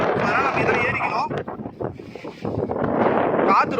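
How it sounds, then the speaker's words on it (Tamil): Strong wind on a hill trek roars and buffets the microphone without letup, with a voice faintly audible beneath the gusts. "காற்று ரொம்ப ஹெவியாக அடிக்குது."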